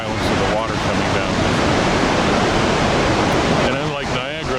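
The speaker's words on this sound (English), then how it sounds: "the ground actually is slightly vibrating from the violence of the water coming down" A powerful Icelandic waterfall crashes down in a loud, unbroken roar of rushing water that fills the whole clip, with a voice faintly heard near the end.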